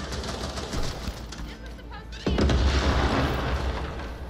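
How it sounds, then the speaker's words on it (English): Gunfire rings out during a side mission at Karl's in a shooter video game, a sudden loud burst of shots followed by sustained dense noise and rumble amid the game's ambient sound. "So you saw those shots kind of ring out and everyone's rushing in there."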